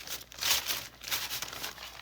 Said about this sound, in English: more crinkly sound, because it's much more drier